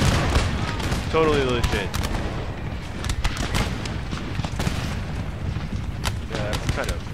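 Musket volleys and scattered gunfire from soldiers in the Empire Total War video game (Darthmod mod, Mughal campaign) crackle steadily in the background while someone talks over them.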